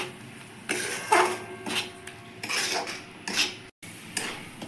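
A metal utensil stirs and scrapes in a pan as a vegetarian matar paneer masala with sattu, salt and a little water is sautéed. Several close, sharp clinks and scrapes come in uneven bursts.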